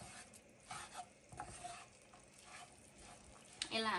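Soy sauce chicken keema noodles, Boudha Kathmandu style, stirred in a pan over low-to-medium heat, giving faint scraping and soft sizzling that swells briefly at the end.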